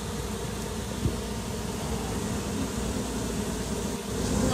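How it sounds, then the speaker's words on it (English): Dense, steady buzzing of honeybees swarming around a hive box set in a shed, a continuous insect drone that fills the scene at close range with no one speaking. "queens in there, and there are bees in the box"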